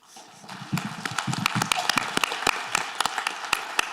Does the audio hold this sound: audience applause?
yes